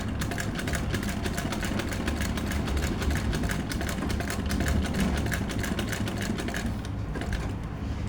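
A sewing machine runs in one steady, unbroken stitching run for several seconds, a close rapid mechanical hum and patter that stops near the end as a training exercise in continuous stitching on cloth.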